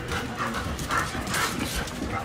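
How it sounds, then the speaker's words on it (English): A tiny brown dog barks in a few short, yappy bursts close by, over steady household background noise. "It's my tiny brown dog named the Swizz!"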